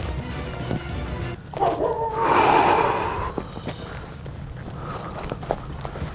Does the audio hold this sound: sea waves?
no